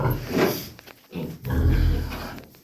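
Pigs grunt and snort close by during piglet weaning in several bursts, low and rough, with short pauses between them.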